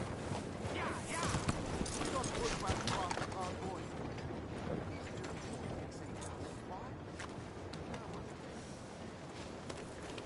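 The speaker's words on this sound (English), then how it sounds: "That's a good horse." Horse hooves clip-clop in Red Dead Redemption 2, steady and fairly loud beneath a dense bed of game ambience and rumble, with no voices over them.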